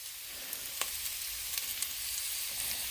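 Onions sizzling in a pan while cooking for sopa with fideo, a steady, close hiss of frying with a few faint pops and light clinks, no voices.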